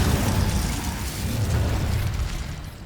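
The Incendio fire spell in Hogwarts Legacy erupts as a loud, dense roaring blast of fiery noise, sustained for a few seconds at close range.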